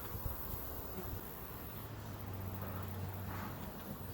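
Honey bees buzz around a backyard hive during an inspection, a dense continuous drone that stays steady and fairly close with no talk.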